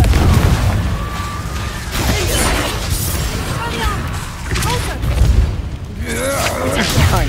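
Confringo and Reducto spell blasts in the Hogwarts Legacy video game: repeated booming bursts and crackling impacts over a busy game battle, with a voice shouting the spell names throughout.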